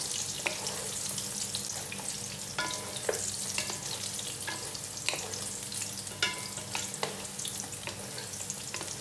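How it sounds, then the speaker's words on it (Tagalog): Fish tofu, or fish cake, sizzles and crackles steadily as it is stirred in a frying pan, with scattered scrapes and clicks of the utensil over the continuous close, moderately loud frying. "haluin lang natin ng haluin para pantay-pantay po ang pagkaluto ng ating fish cake or fish tofu"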